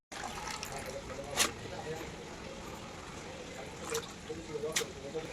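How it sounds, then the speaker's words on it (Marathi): Water sloshes and trickles faintly as grated potato chips are rinsed in a bowl, with a few sharper splashes over a steady low wash. "चिप्स चांगले पांढरे शुभ्र होण्यासाठी 2 ते 3 वेळा पाण्यातून स्वच्छ धुवून घ्या"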